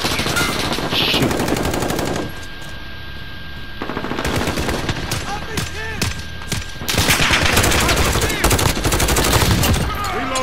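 Grau 5.56 rifle fire in Call of Duty Modern Warfare, loud close automatic bursts with a brief lull in the middle, under a player's talk and game effects.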